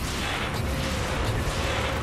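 In Monster Hunter Rise, Magnamalo's explosion unleashes a dense, sustained roaring blast that fills the space without a sharp start or letup, loud and close, with no talking.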